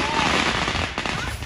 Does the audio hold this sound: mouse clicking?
no